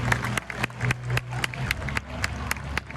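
A stadium crowd applauds as players take the field, with rhythmic, regular claps and a busy crowd murmur underneath, along with some nearby voices.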